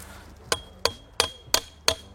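A hammer strikes five times at an even pace while a basketball court is being laid out. Each blow is a sharp, fairly close knock with a short metallic ring.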